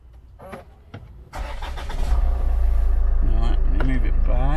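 A Land Rover Freelander 2 automatic cranks briefly, then catches and settles into a steady, loud idle close by, with people talking over the start.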